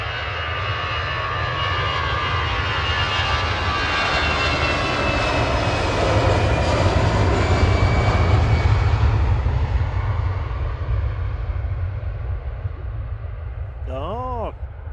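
Airbus A380 jet engines at full departure power at Manchester Airport in the evening, a loud, sustained broadband roar with low rumble swelling mid-clip, steady throughout, with a brief voice near the end.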